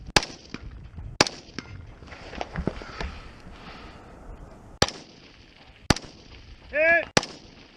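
Rifle shots ring out at steel plate targets about 300 yards away on an outdoor shooting range: several sharp, loud, close reports at irregular intervals, with a short tonal sound just before the last shot.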